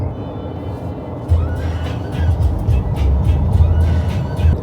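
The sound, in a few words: small one-litre car engine while driving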